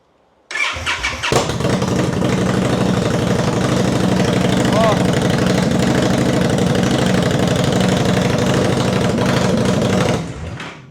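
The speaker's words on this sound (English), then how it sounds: "I've turned the ignition on. I want to start it up and see what it sounds like." An Indian Scout Bobber motorcycle fitted with straight pipes and its mufflers removed cranks and fires up, then idles with a loud, deep, throbbing rumble for about nine seconds before shutting off abruptly.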